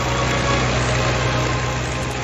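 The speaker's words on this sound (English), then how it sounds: "he also relied on the Lancaster's key attribute, the 4 legendary Merlin engines mounted on its wings" Four Rolls-Royce Merlin 20 engines of a Lancaster bomber run together in a steady, loud droning roar with a deep throb, close by and continuous with no talking.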